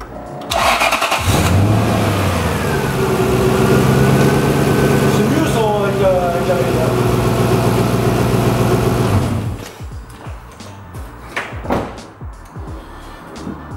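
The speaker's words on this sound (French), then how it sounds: "Bon, du coup le moteur démarre bien" Car engine fitted with an E85 ethanol conversion kit cranks and fires up loudly, then holds a steady idle before cutting off, leaving quieter background noise and short knocks.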